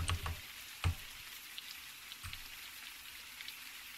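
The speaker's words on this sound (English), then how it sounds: "Has it got even more rainy out here since I did that thing?" Steady rain patters through a dark outdoor scene in the horror game The Mersus Tapes (Lost in Vivo), a soft constant hiss with a few louder low thumps near the start and no voices.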